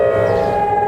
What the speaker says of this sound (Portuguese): A sirenezinha do calor extremo